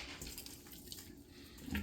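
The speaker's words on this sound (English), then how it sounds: "So let's still add 30 grams of water." A small amount of water is poured into sourdough bread dough during the final mix, a quiet, brief trickle and splash close by.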